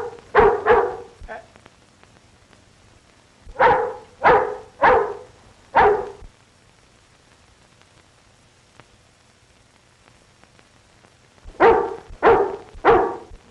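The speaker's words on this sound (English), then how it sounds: "Now, say, here's a watchdog." A watchdog barks in three bursts of two to four loud, close barks, separated by quiet pauses, with no talk over them.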